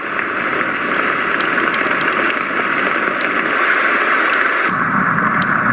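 Rain setting on a Roffie white noise machine, a dense, even hiss of steady rainfall that runs unbroken and loud from start to finish.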